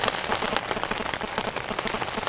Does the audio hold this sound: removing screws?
no